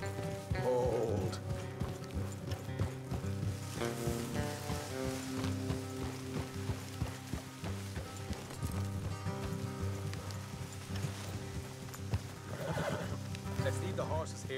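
Horses in a video game clip-clop along with repeated hoof beats and occasional whinnies, amid a busy layered game soundscape and music-like tones, while characters talk over it.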